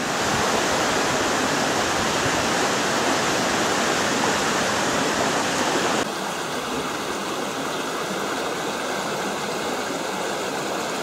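A steady, loud rush of falling water roars without pause, a dense continuous wash close by.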